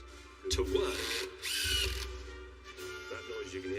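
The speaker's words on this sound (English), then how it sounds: "It's because this one incorporates a small hammer action to drive the screw home." A hammer-action drill drives a screw home in a few short bursts, buzzing and rattling at close range between brief pauses, with some faint background noise.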